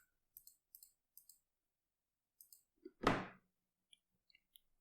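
A computer mouse gives a few soft paired clicks, close and sparse, followed by one louder thump-like burst and scattered tiny ticks in an otherwise silent room.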